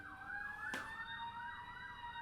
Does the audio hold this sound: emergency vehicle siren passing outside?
yes